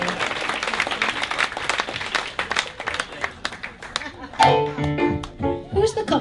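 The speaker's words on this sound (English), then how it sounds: "Can I have a round of applause for this band?" An audience at a speakeasy-style live music show claps for the band, a dense burst of applause that thins into scattered claps, with a voice and some whoops in the mix.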